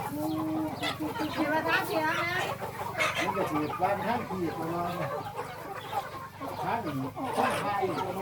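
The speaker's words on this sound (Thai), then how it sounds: "ไก่เนาะจ้ะ" Several fighting cocks cluck and chatter steadily nearby on a farm, a busy overlapping flock sound with voices talking underneath.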